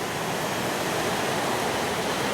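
River water rushes steadily past an old mill, swollen with recent floodwater, a broad continuous hiss with no breaks, heard alone at moderate level.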